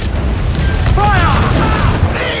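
Naval cannon fire in Assassin's Creed IV Black Flag ship combat: deep, rumbling booms roll continuously under shouted commands, with whistling projectile sounds streaking overhead.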